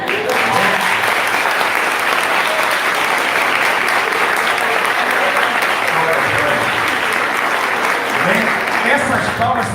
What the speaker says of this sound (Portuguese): Essas palmas são para Jesus